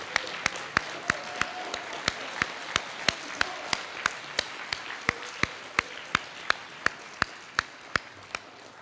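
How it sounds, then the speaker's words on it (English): A quick round of applause at a gathering in Winnipeg, thanking teachers: sharp, evenly spaced claps ring out in a steady rhythm over a faint room hum for about nine seconds. "join me, please, just in a quick round of applause to say thank you to the teachers"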